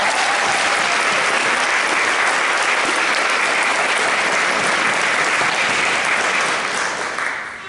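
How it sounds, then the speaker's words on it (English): Sustained, dense applause from an audience at a school board meeting honouring graduating seniors, steady and loud throughout before easing slightly at the very end. "Let's give those 3 rounds of applause."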